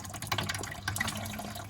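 During a mud clean-up, water pours in through an unsealed part, a faint, steady splashing trickle that runs alone, with no talk over it.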